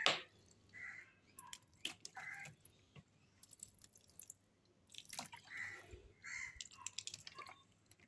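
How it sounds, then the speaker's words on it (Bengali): Water being poured onto potted plants, with scattered drips and splashes landing close by in irregular bursts and a quiet background between them. "গাছগুলো একটু করে জল দিয়ে দিই।"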